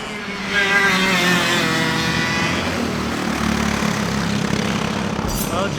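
Shifter kart engine at the kart track of Atlanta Motorsports Park, a loud continuous high-revving drone close by with engine pitch wavering throughout and no speech.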